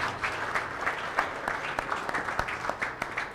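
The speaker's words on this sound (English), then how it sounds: "Let's give Scott one more nice round of applause for being here today, taking time out of his schedule." Steady audience applause at a tech event, dense clapping filling the space at moderate distance with no talk over it.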